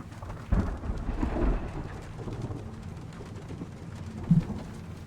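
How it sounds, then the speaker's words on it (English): A thunderstorm in Shadow of the Tomb Raider: low rolling thunder and steady rain, with a louder rumble early on and another sharp low crack near the end, no voices. "I don't like this storm."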